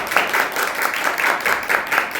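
A church congregation claps in a steady, rhythmic beat, many hands striking together in even pulses that fill the room, with no talking over it.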